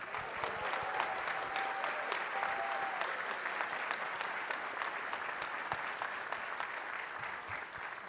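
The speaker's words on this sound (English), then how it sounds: "Please give a round of applause for Rachel Block, aka Panda the Cat." A convention crowd at the Midwest FurFest 2021 opening ceremonies applauds a guest of honor, steady clapping that fills the whole stretch at moderate level, with a faint murmur of voices beneath.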